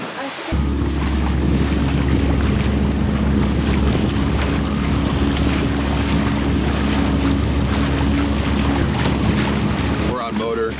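A Seawind 1000 XL2 catamaran running under motor at sea, giving a steady low engine drone mixed with wind buffeting and rushing water throughout.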